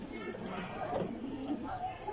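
Domestic pigeons in a breeding loft in Alexandria coo softly and repeatedly at close range, heard beneath someone talking.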